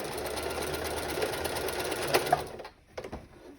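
A sewing machine stitches a fabric tote bag with a reverse stitch, a close, steady mechanical whir of rapid needle strokes that stops abruptly, followed by a few quiet clicks.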